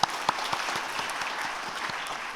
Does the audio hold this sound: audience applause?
yes